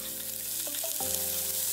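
Chopped vegetables and Vienna sausages fry in olive oil with golden garlic in a pan over medium-low heat, giving a steady close sizzle with a couple of brief clinks, and no voices.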